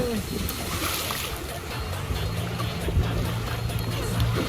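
Sea waves wash and splash around people playing in the surf at a beach, a continuous churning rush with louder surges, while excited voices shout over it.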